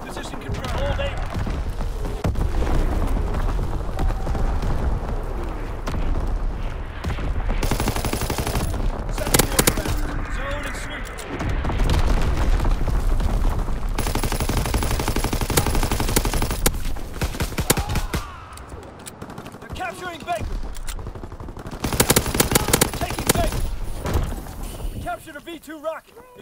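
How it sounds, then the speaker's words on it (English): Dense artillery and automatic gunfire in a Call of Duty WWII battle, continuous loud bursts and blasts with game voice callouts over the top. "Firing division artillery."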